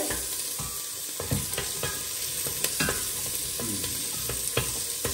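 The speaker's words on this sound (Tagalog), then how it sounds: "Oh, mainit na. Gisa-gisa natin." Onions sauté in a hot pan, crackling and sizzling steadily, with repeated scraping and tapping as a utensil stirs them.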